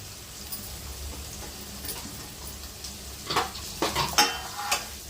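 Chopped onions and grated cabbage fry softly in a pan, a quiet steady sizzle broken near the end by several stirring scrapes and clinks of a spoon against the metal.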